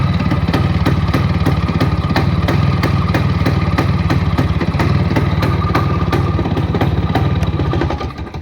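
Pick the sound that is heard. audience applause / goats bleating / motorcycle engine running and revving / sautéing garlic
motorcycle engine running and revving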